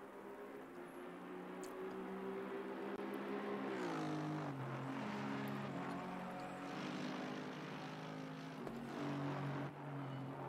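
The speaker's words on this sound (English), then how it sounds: "You can just hear there the cars from the other side of the track as Ashley Bloomfield leads them out." Distant GT race cars circling Brands Hatch in Assetto Corsa Competizione, a steady droning engine note that rises and falls in pitch as cars pass on the far side of the track, continuous and moderately loud.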